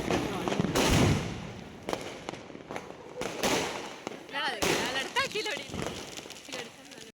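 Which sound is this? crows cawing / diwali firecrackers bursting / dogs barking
diwali firecrackers bursting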